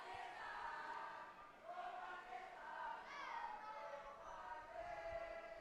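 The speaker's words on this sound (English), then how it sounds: "Crowd singing for Pakistan." A distant crowd at a Sultan of Johor Cup field hockey bronze medal match between Great Britain and Pakistan sings in a sustained, swelling chant for Pakistan, faint and diffuse, with voices rising and falling together.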